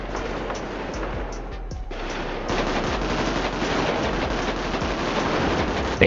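Gunfire in the GTA V video game during a roleplay kidnapping scene, with dense rapid bursts like a machine gun rattling continuously over a steady noisy wash, loud and close throughout.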